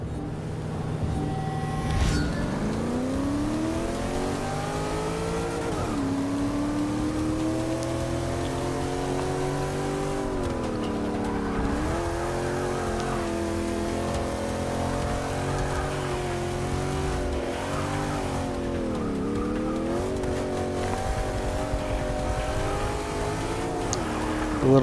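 A race car engine in Forza Motorsport 6, set up for a high redline, revs steadily through rising and falling gear sweeps, loud and continuous for the whole stretch with no talk over it.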